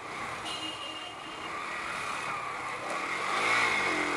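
A Yamaha Enticer motorcycle cruises along with a steady, moderately loud engine drone, the pitch rising slightly toward the end as it pulls a bit harder.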